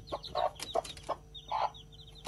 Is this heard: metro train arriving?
no